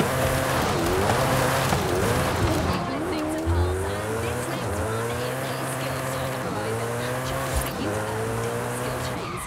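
A Koenigsegg Jesko drifts in the video game Forza Horizon 5, its engine note rising and falling in repeated sweeps over continuous tire squeal, loud and close throughout.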